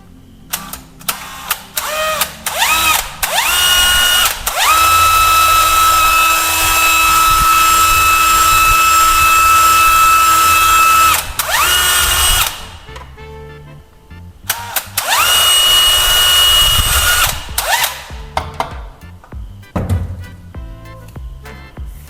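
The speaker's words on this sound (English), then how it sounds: "I drilled 2 small holes through the pipe right at the marks." A power drill bores two small holes through a plastic pipe: a whining motor with long bursts, pauses between them, then a final shorter run, loud and close.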